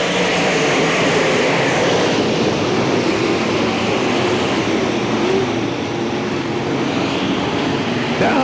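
Late model stock cars race at Hamilton County Speedway in the 1993 Winston 50, a loud, continuous engine roar that stays steady and dense for the whole stretch with no voices.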